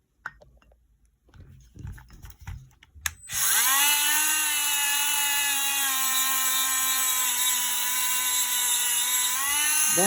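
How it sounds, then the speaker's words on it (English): A radial bristle wheel on a rotary tool spins up with a sharp whine and grinds steadily against labradorite and coral jewelry, a high, even buzz that runs nearly ten seconds after a few quiet handling clicks. "The other thing you can do is your radial wheel."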